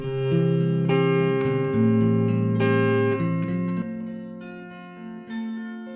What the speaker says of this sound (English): So now we're hearing just the short reverb return.